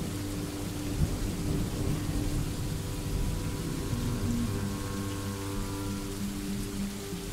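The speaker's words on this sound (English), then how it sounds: "And it has started raining again." Rain falls in the Dwarf Fortress video game, a steady hiss of rainfall over a low, droning ambient background, continuous and moderately quiet.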